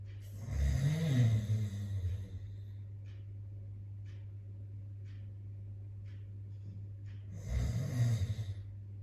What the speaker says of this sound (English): Change the position of lying down, you are snoring.